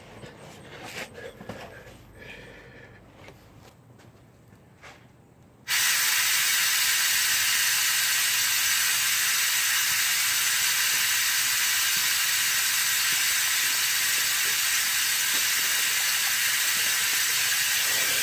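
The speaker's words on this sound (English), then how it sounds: "now I'm going to drop the hose down inside here and suck the fluid out of the pan" Fluid extractor hose sucking transmission fluid from the pan of a 2016 GMC Sierra's 8L90 transmission: faint clicks and handling noise, then a sudden loud, steady broadband hiss that continues unbroken for over twelve seconds, close up.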